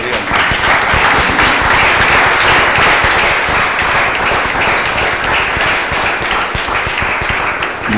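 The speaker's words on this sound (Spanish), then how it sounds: "por tu magnífica lectura del texto y este aplauso pues a Francisco de Asís." An audience at a round-table talk on monastic translation and humanism applauds after a reading of Francis of Assisi's text, a loud, sustained burst of many hands clapping that tapers slightly toward the end.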